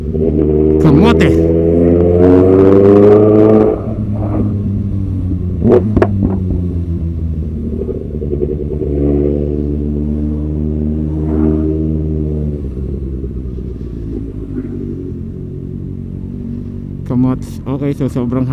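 A long queue of motorcycles idles and creeps along in heavy traffic while a rider splits lanes. Engines rumble steadily nearby with occasional revs, under a rider's talk.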